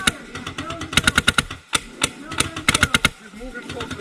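Paintball markers fire in rapid, sharp bursts of snapping pops during an outdoor supergame at a wooded field, close and loud, with players shouting calls over the shots.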